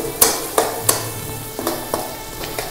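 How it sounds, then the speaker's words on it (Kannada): Finely chopped onions frying in a pan for a white vegetable kurma, with a soft steady sizzle broken by several sharp clinks and knocks of a utensil against the pan at irregular intervals. "ಈರುಳ್ಳಿ ಚೆನ್ನಾಗಿ ಫ್ರೈ ಆಗಲಿ."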